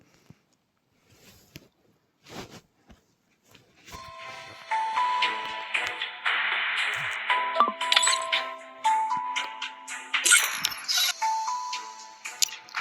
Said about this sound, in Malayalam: കുറേ നോട്ടിഫിക്കേഷൻ വരുന്നുണ്ട് സോറി